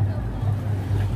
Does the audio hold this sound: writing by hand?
no